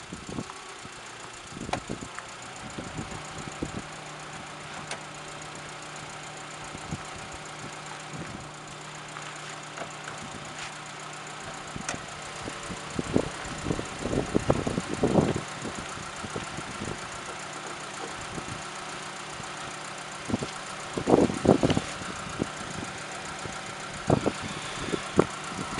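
A 2000 Subaru Legacy engine idles steadily with a low hum, broken by a few louder knocks and clatters of handling nearby, with no talking.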